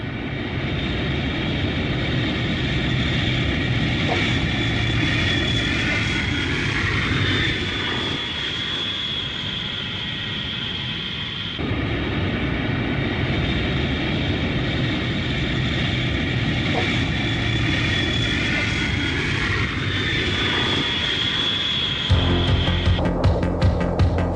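An F-111 military jet aircraft flies by, filling the air with a loud, sustained, throbbing engine roar that holds steady for a long stretch with a brief dip midway.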